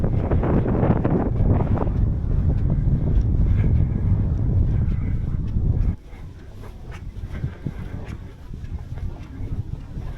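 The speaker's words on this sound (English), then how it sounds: "It's getting quite windy up here." Strong wind gusts across a hilltop in Glen Shee, buffeting the microphone with a loud, steady roar that drops to a lighter, gusty rush partway through.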